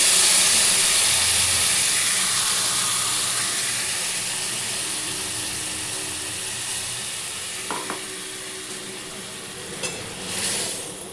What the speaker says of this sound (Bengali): একটু বাটি ধোয়া জল আমি একটু দিয়ে দিলাম।